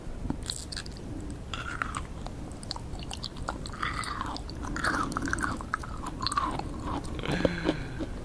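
A woman chews leaves at lunch with loud, wet lip smacking, repeated squishy bites and crunches close to the mic in an irregular rhythm.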